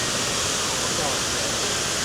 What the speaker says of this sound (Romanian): Oare unde se duce toată apa asta?